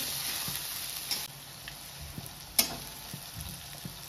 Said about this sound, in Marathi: आता हा मी कांदा भाजते